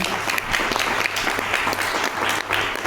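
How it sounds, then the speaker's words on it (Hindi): A crowd claps steadily and loudly, a dense continuous round of applause that holds for the whole moment. "चलिए एक जोरदार तालियां होनी चाहिए"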